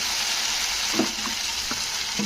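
Ginger paste frying with tomato paste in a pan, a steady hissing sizzle with a few soft scrapes as it is stirred.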